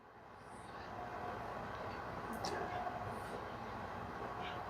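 An Athearn SW1500 model locomotive with a Tsunami II sound decoder runs with a soft, steady diesel rumble that swells in at the start and then holds evenly, faint and continuous.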